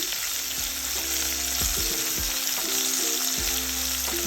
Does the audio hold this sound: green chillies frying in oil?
yes